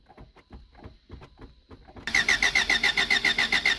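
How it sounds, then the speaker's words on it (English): A Honda Accord that has sat for years being started: a few seconds of uneven starter cranking, then the engine catches into a loud, rapid, pulsing idle with a whining tone, close by. "I'm going to try to start up the Honda Accord for the first time."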